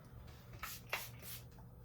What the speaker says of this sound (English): So all I do with this is take and spray it